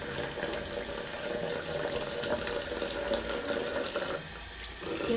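A tap runs into a sink with a soft, continuous splash and trickle, fairly quiet and steady with slight shifts in the flow near the end.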